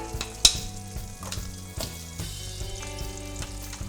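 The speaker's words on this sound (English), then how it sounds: "we are going to put a quick sear on these before they go into the oven" Chicken breasts sear in hot oil and butter in a pan, a steady close sizzle with a sharp spatter pop early on and faint clinks of utensils underneath.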